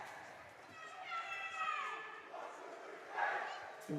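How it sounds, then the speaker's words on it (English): Spectators in the stands at an Ice Line rink shout and holler during a high school ice hockey championship game between Kennett and Cardinal O'Hara, a fairly faint blend of overlapping yelling voices rising in bursts, with kids' shrieks among them. "The colorful banter as we can hear it within the stands."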